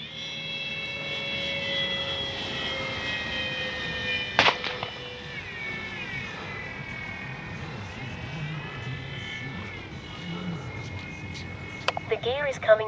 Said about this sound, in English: Can't figure out what that whining sound is.